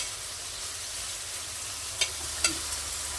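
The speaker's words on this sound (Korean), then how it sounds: "이렇게 볶아주세요" Spicy marinated duck bulgogi sizzles steadily in a hot pan, a continuous close frying hiss with two brief sharp clicks of a utensil stirring the meat.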